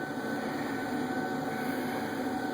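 A Fisher & Paykel DX-1 SmartLoad washing machine drum spins up with a steady broadband whir and low mechanical hum, no squeaking, continuous and fairly loud throughout.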